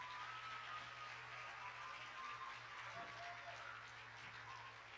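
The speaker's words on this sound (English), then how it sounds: "the team for the play deserves another big round of applause" A distant, faint wash of audience applause at a Sri Sathya Sai centenary celebration for the play team, steady and low beneath a constant room hum.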